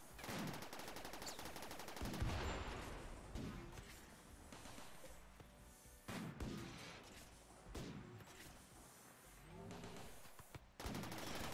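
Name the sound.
gunfire attacking a mini turret in a video game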